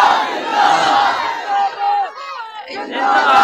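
A crowd at a religious gathering shouts slogans together, loud massed voices rising and falling in waves, briefly dropping away before surging back in unison.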